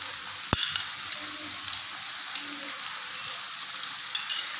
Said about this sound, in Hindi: इसको हम मज़ीद जो है 2 मिनट फ्राई करने के लिए रखते हैं